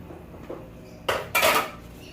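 A spoon scrapes and clatters against a metal cooking pot while stirring shrimp sinigang, two short bright bursts of metallic clanking close up over quiet background, no voices.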